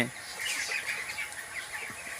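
Chickens on a poultry farm holding about two thousand birds, heard as a faint, steady wash of clucking and chirping with occasional wing flaps and no talk.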